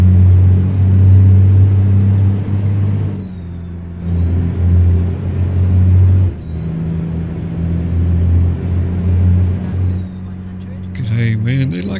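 A Kenworth C500 heavy truck engine in American Truck Simulator, hauling an oversize load with just over 500 horsepower, gives a loud, steady low drone with a whine on top. It dips briefly in pitch as gears shift, then a short chime sounds at the end.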